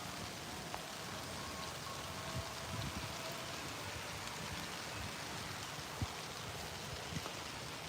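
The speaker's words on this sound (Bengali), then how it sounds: "ভাই এখন তো হালকা একটু বাতাস বৃষ্টির পানি দেখতেছেন" Light rain falls steadily outdoors with a little wind, a constant even hiss of drops on surfaces with a few louder taps and no voices.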